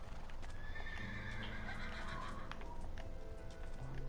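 A horse in Minecraft whinnies loudly over steady hoofbeats and a busy game soundscape, with the neigh rising and falling for a couple of seconds.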